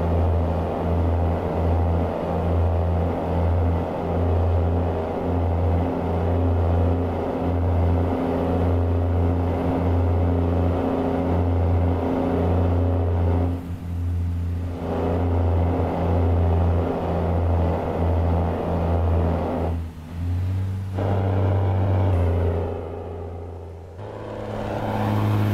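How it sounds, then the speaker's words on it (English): Peterbilt 389 truck with a Cummins ISM engine rolling down the highway, a loud, steady low diesel drone with rhythmic pulsing and a brief dip near the end. "This truck here is pretty fast."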